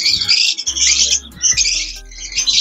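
Caged pet lovebirds calling at a breeder's aviary, loud close shrill chirps and squawks in quick overlapping bursts with brief gaps.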